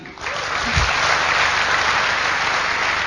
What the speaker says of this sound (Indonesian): Mohon aplaus untuk sponsor saya, Bapak Seno Hadi.